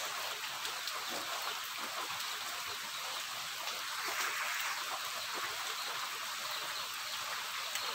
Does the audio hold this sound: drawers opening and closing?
no